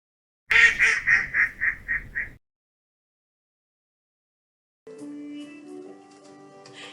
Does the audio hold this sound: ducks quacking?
yes